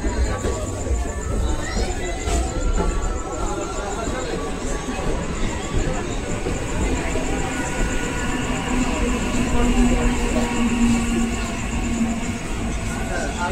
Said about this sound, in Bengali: ট্রেন আসছে, বাড়িতে ফিরছি আমি এখন।